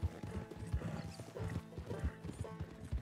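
Horse hooves clip-clop at a steady riding pace in the video game Red Dead Redemption 2, quiet and even with faint mechanical creaks, and no talk.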